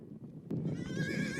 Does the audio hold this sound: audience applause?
no